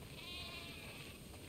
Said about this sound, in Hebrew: כל הכבשים לעשם, תפסי, תפסי את כולם